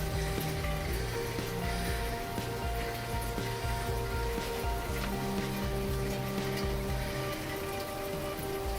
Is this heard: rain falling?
yes